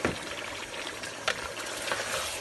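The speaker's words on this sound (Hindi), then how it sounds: "आलू डाल देना है इसके अंदर।" Peeled potatoes tipped into a pot of cooking Sindhi mutton biryani, a few soft thuds and clatters over a steady sizzle, close and fairly quiet.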